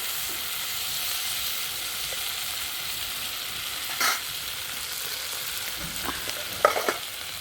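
Onions fry in a pan in a home kitchen, a soft, even sizzle running the whole time, broken by a couple of brief clinks and a stirring scrape near the end.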